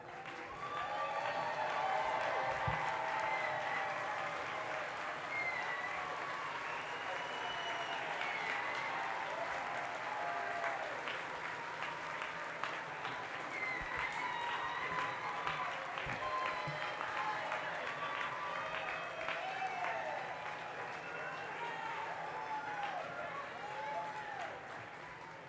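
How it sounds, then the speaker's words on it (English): Graduates at the 2024 Crummer commencement at Rollins College applaud their families and faculty, a sustained, even round of clapping from a large indoor crowd, with scattered voices and cheers mixed in. "face your family and your faculty and give them a round of applause"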